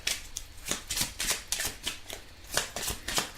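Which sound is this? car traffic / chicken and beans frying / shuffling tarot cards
shuffling tarot cards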